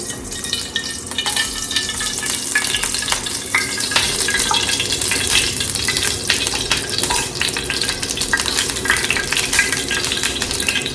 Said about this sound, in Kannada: ನಾವು ಈಗ ಕಡಲೆಪುರಿಗೆ ಒಗ್ಗರಣೆ ಹಾಕ್ಕೊಳ್ಳೋಣ